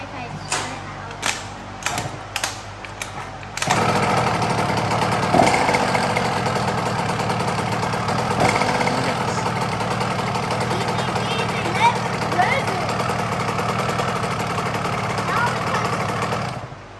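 A 2021 Husqvarna TC50 dirt bike is kicked over a few times with sharp strokes, then its small engine catches and settles into a steady, buzzy idle nearby while a voice speaks at times.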